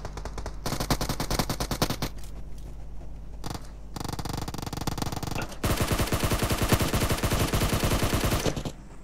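Rapid automatic gunfire in a video game, long dense bursts of repeated shots separated by brief pauses, loud and close throughout with no talk.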